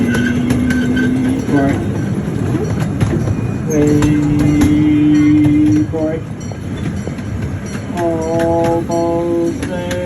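Museum ride train at the National Museum of Transportation in St. Louis, Missouri, rumbling and clattering along the rails with whistle-like horn tones sounding several times, while a voice talks over it.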